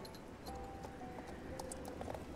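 Horse hooves clip-clop steadily along a haunted trail ride in Star Stable Online, a rhythmic patter of steps with faint chimes and game ambience around them, no talking.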